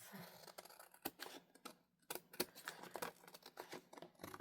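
Scissors snipping through paper while collaging, quiet close crisp cuts coming in irregular quick bursts and single snips.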